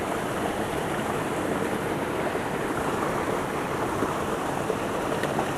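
A waterfall on a clear mountain creek in Allegany State Park makes a steady, unbroken rush of water that holds even throughout, with no voices.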